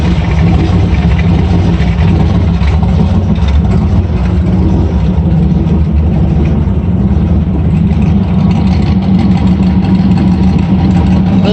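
Carbureted Ford F100 engine running at a low, uneven idle with a steady loud rumble that swells and sags as it surges, close up and continuous with no talk.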